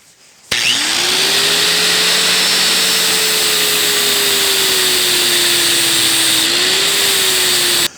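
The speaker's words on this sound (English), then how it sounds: "So let me go ahead and get these guys ground off" A power grinder grinds steel parts for a blacksmith guillotine, starting abruptly and running as a loud, continuous whining roar with a steady tone that dips slightly under load before stopping.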